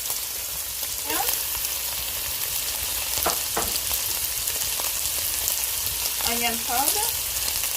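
Pepper steak with onion powder, ginger and black pepper fries in a pan, a constant loud sizzle under a voice speaking briefly, with a few stirring scrapes near the end.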